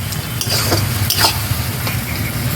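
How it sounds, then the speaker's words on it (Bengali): Spice paste with Kashmiri chilli, cumin and coriander powders being sautéed and stirred in oil for a fish dish, a loud close sizzle with a few sharp scraping strokes of the spoon, and no voices. "এবার মশলাটাকে ভালো করে আবার কষিয়ে নেব"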